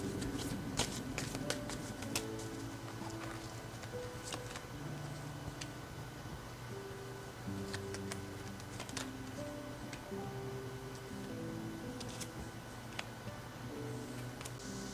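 Tarot cards are shuffled and drawn by hand in a quiet room, giving soft, irregular riffling and light tapping clicks throughout, with faint background tones and no speech.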